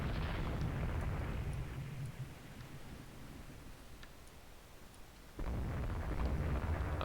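Naval gunfire in the game Rule the Waves 2 rumbles as low, heavy booms: a deep roar fades, then a sudden loud blast near the end, against a noisy background.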